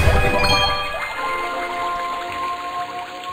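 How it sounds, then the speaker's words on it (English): A level-up sound effect from the video game The Legend of Zelda: Twilight Princess plays as a bright, tinkling chime with layered ringing tones. It is loud at the start, then shimmers and fades over about three seconds, with no talking. "that right there was the leveling up sound from The Legend of Zelda Twilight Princess"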